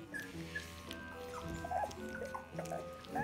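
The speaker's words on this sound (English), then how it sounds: "Puppy weaning." Young puppies from a litter being weaned whimper and yip in short, high, thin cries, several overlapping at close range over a quiet indoor background.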